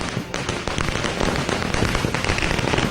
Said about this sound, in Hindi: पार्टी कार्यकर्ता पटाखे जला रहे थे